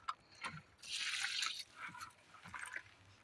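A bucket of water soaking into the soil of a potted flowering plant, heard as a faint trickle and soft dripping with a brief hissing gush, quiet and close with no talking.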